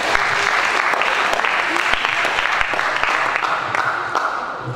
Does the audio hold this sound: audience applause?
yes